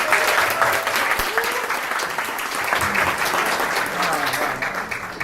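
Applause from an audience at a live product presentation, a brisk, sustained burst of clapping lasting about five seconds at fairly close range, easing slightly near the end.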